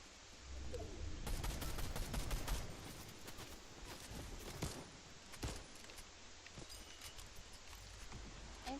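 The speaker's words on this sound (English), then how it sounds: "Infantry rifle's not too bad." Rapid bursts of infantry rifle gunfire in the video game Fortnite, sharp cracks in quick clusters, densest early and then thinning to scattered shots, fairly close and crisp.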